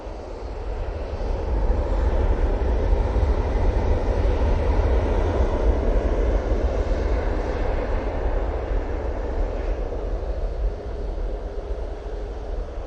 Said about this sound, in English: That Ryanair is now spooling up